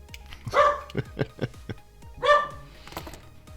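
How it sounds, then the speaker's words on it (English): A nearby dog barks two loud, sharp barks separated by a run of quieter yips and clicks. "So we're just gonna leave my dog Zoe barking in the background."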